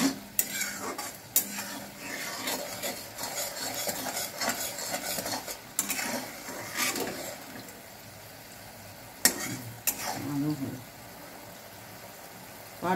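Sugar syrup for the Bengali sweet jibhe goja stirred in a pan, with intermittent scraping and clinking strokes over a low simmering sizzle, fairly close and moderately quiet.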